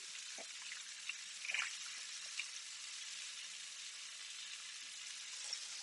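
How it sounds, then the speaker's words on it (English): Butter melting and sizzling in a hot pan, a steady soft frying hiss with small pops and brief crackles, fairly quiet and continuous throughout, no talking. "take the butter, drop it in there, move it around so it melts nicely"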